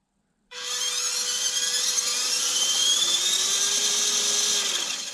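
A 1/12-scale MN-90 Land Rover D90 ready-to-run RC truck with a 130 motor, whining up suddenly and holding a loud, high, steady electric motor whine with slight pitch shifts.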